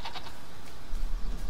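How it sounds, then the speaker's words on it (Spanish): A goat bleating in the survival game The Isle, two or three quick nasal bleats near the start, followed by low rumbling movement noise. "¡Cabra, vuelve!"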